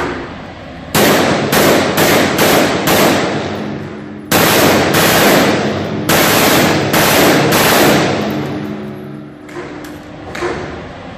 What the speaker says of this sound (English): Stretch it out, put some more rounds through it.